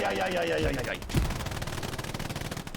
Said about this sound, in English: AFK Harry gets exploded by a rocket